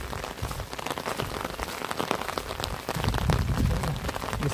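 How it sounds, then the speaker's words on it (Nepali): Heavy rain pours steadily over rice paddy fields in autumn harvest season, a dense, continuous wash of drops drumming on surfaces with no pauses, growing slightly heavier toward the end. "आज दिनभरि पानी पर्ने भएछ"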